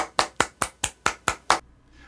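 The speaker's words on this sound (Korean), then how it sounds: "여러분 뜨거운 박수로 이성원 강사님을 모시겠습니다" Seven sharp, evenly spaced hand claps ring out close and crisp, welcoming an instructor at a church video-ministry seminar; the steady rhythm sounds more like a few people than a full crowd, then a short quiet tail follows.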